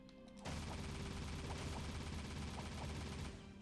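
Gunfire from a weapon in the video game Jak 3, a loud, dense burst of rapid shots starting abruptly and firing continuously for about three seconds before cutting off.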